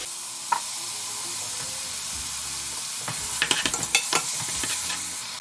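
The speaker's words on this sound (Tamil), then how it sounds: "தக்காளி நல்லா வதங்கட்டும்." Tomato with coriander and mint sautéing in a pan for mutton nombu kanji, a steady soft sizzle with a few clinks and stirring scrapes toward the end, close and moderately quiet with no talk.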